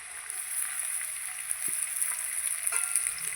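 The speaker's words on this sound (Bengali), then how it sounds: "এবার আমি এখানে যে পেঁয়াজ রেখেছিলাম পেঁয়াজটা দিয়ে দেবো" Onions dropped onto potatoes already frying in a pan, a steady hissing sizzle with a couple of soft knocks partway through, fairly close and without speech.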